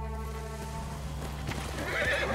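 A horse neighs in Ghost of Tsushima, a loud whinny over a steady low game ambience, with faint hoof steps near the end.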